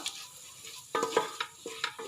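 Quiet at first, then a spatula scrapes and stirs spice powder in a hot pan over low flame for beef roast, with soft, uneven strokes and a faint sizzle.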